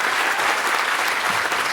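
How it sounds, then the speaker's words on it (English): An audience at an evening talk event applauding, a dense, steady wash of clapping from many hands filling the room. "Let's give them a round of applause."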